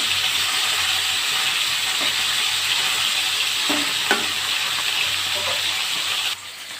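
Snakehead fish fry in a pan of hot oil with a loud, continuous sizzle. A few light utensil taps sound near the middle, and the hiss drops abruptly just before the end.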